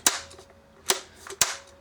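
A Makita DUC353 36V brushless battery chainsaw's anti-kickback chain brake snapping on, three sharp, loud clicks spaced unevenly, close and alone.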